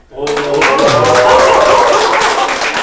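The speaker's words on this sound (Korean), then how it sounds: "뜨거운 박수 부탁드립니다." Audience applause at a small art fair in an arts hall, clapping swelling up quickly after a brief quiet and holding steady and loud for over two seconds, with a speaking voice carrying over it.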